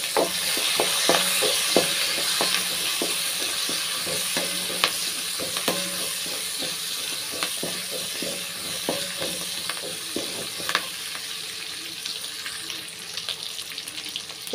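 Onions, garlic and curry leaves with asafoetida sauté in hot oil, steady crackling sizzle punctuated by frequent sharp clicks and scrapes of a spoon stirring the pan.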